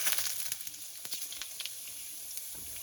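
Five-spice mix and red chilli crackle and sizzle in hot mustard oil over a wood-fired chulha, a bright steady hiss with scattered pops fading slightly over a few seconds, no talking.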